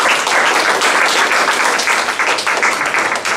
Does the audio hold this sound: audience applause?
yes